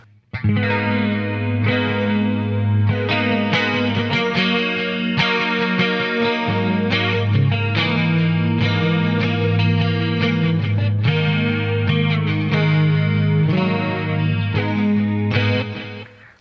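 Electric guitar through an ART SGX 2000 Express preamp on the Rainmaker 2 preset plays a dense, heavily effected passage with chorus, distortion and echo, loud and continuous for about sixteen seconds with no talking.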